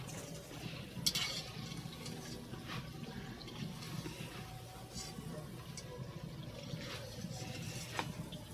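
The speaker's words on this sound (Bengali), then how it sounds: "দেখুন, এইভাবে সবগুলো ভেজে নেবেন" Palm fruit fritters (taler bora) deep-frying in oil, a continuous bubbling sizzle of moderate level, close by, with scattered sharper crackles and pops.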